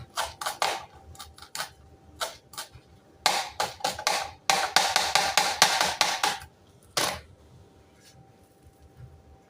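A knife chops coriander into small pieces on a board with rapid, sharp taps in uneven bursts and short pauses between runs, close and fairly loud.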